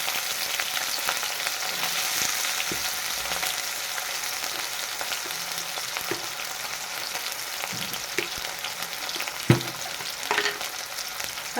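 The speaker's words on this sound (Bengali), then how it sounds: "কাঁচা লঙ্কাটা দিয়ে দিলাম হালকা হালকা করে ভেজে নেব" Green chillies and potato frying in fish oil, a constant close sizzle with occasional stirring scrapes and a sharp tap near the end.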